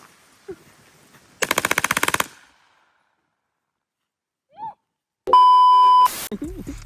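A fully automatic Hellcat pistol rips off one rapid, loud burst of about a dozen close shots lasting under a second, followed after a pause by a steady electronic beep and some clatter.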